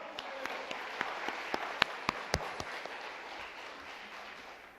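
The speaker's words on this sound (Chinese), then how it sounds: "我们给自己一个平安喜乐的鼓掌，好不好？" A church congregation claps during a Sunday worship service: faint, scattered handclaps over a soft hiss, a few louder claps standing out before they thin away.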